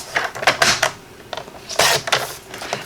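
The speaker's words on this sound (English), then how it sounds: "So I'm going to cut this at 4 by 5 1/4." Cardstock being cut to 4 by 5 1/4 inches on a paper trimmer, a few crisp slicing and clicking strokes in two bursts, close and fairly loud with no talk.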